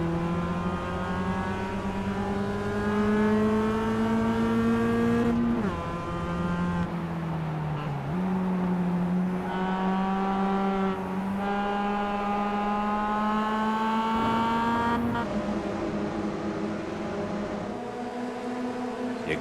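Several race cars in the Simworx Roadster sim racing game run side by side at Catalunya, their engine notes steady and droning, rising and falling together with brief dips as drivers lift off the throttle, loud and continuous throughout.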